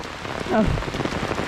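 Heavy rain drums close by on an old umbrella overhead during a walk, a steady patter with a short louder swell partway through.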